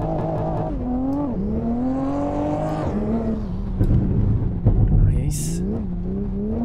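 A rear-wheel-drive BMW M140i hot hatch in a racing game revs and accelerates through several gear changes, the engine tone rising and falling loudly, with brief tire squeal and someone talking over it.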